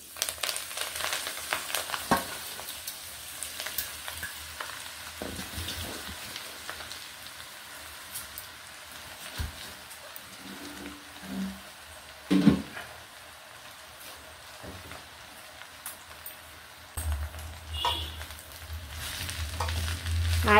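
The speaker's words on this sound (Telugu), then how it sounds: "ఇప్పుడు ఈ ఆయిల్లో గోంగూర వేసి వేయించుదాం." Gongura leaves fry in a little peanut oil in a pan, giving a soft, steady sizzle with occasional stirring clatter. The sound stays close and fairly quiet throughout, with no talking.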